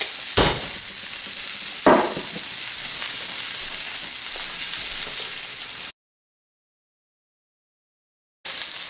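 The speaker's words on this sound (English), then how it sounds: "the last piece of pork is browning really nicely" Pork pieces browning in a hot pan give off a steady, close sizzle and crackle with a few brief stirring bursts, running loud and continuous for about six seconds before cutting to silence, then resuming.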